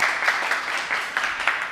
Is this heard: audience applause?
yes